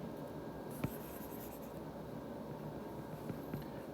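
Writing on a surface while explaining a circle equation, a faint continuous scratching of pen strokes with a few light taps, quiet and close, with no speech.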